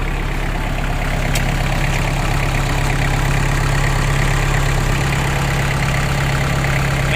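A Kubota M5000SU tractor's diesel engine idles close by with a steady, throbbing low-pitched rumble and a slight change in its beat partway through, running without talk.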